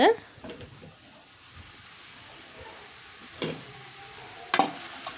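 Okra fries in a pan with a faint, continuous sizzle under occasional scraping strokes of a spoon being stirred through it, heard close but quiet.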